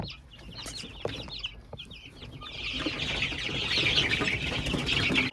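Cross Veselka breed chicks on a home farmstead, peeping and clucking close by, starting sparse and swelling into a dense, louder chorus of high chirps toward the end, with no talking.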